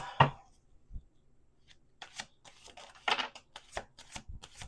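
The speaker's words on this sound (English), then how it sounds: "Let's do two more shuffles." Tarot cards are riffled and shuffled in several quick bursts, with crisp flicking snaps separated by short pauses.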